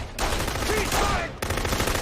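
Rapid gunfire crackles in a movie scene, a dense burst of shots that stops abruptly, then resumes after a short gap, loud and close with faint voices in between.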